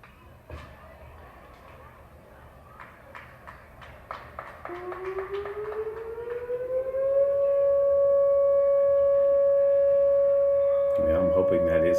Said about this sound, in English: we have got a siren that just started and has yet to go off